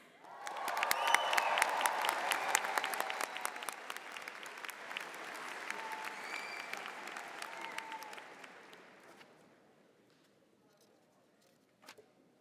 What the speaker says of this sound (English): We applaud you, graduates